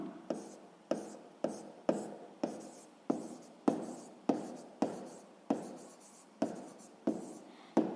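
A pen writes a sixth-grade maths answer on paper in quick, regular strokes about twice a second, close and soft, with no talking.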